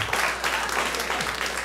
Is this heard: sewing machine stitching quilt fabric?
no